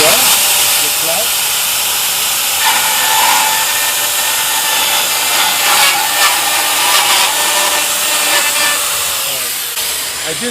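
A Metabo weld shaver cutting down a steel weld: a loud, steady high-pitched grinding whine that runs continuously at close range, with small shifts in pitch as it bites, before easing off at the end.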